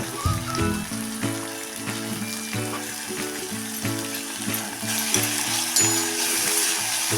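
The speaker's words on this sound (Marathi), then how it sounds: "बघा आता कांदा कसा छानच परतून झालेला आहे त्यामध्ये टाकूया हा आता एक मध्यम साईजचा बारीक चिरलेला टोमॅटो" Finely chopped medium tomato and sautéed onion sizzling in a pan, a steady close frying hiss with soft stirring, under tuneful background music throughout.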